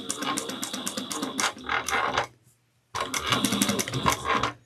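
A sewing machine backstitches a seam on a clutch wallet, giving two close bursts of rapid mechanical stitching separated by a brief silent pause, with no talking.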